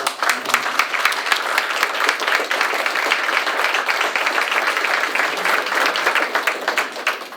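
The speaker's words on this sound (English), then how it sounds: "how about a round of applause?" Steady, moderately loud audience applause at a ribbon cutting ceremony, a dense wash of many hands clapping continuously from start to finish.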